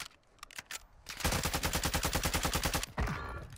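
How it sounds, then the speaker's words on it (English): Automatic gunfire in Warzone, a few scattered single shots followed by a long, rapid, steady burst of about twenty rounds, loud and close, then a final crack and a fading tail. "at least he's shooting at enemies"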